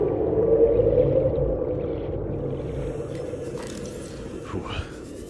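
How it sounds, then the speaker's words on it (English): Crab snake creature in the underwater game Subnautica, giving a deep, murky groaning rumble that fades, then thin wavering squeals and clicks layered over a dull underwater ambience. "Crab snakes make horrifying noises"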